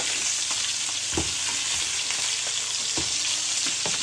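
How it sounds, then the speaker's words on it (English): Salmon fillets searing in a frying pan for orange glazed salmon, an even, loud close sizzle with a few soft scrapes and taps of a utensil against the pan, no speech. "Now I'm going to flip these over. And then see that nice little sear that we've got going on there?"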